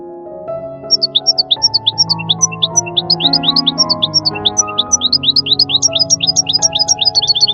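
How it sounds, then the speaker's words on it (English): A goldfinch gives a rapid series of high, twittering chirps, loud and close, over a busy layered musical background. "Goldfinch."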